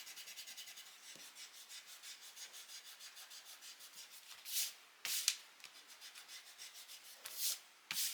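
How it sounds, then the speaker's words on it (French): An eraser rubs pencil marks off a scrapbook page in quick, rhythmic back-and-forth strokes, close and soft, with a few brief brushing sweeps mixed in. "je vais gommer tout ça"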